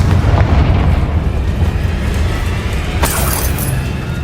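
A Confringo spell explosion in Hogwarts Legacy booms loudly and close, then its rumble decays before a sharp crackling burst near the end.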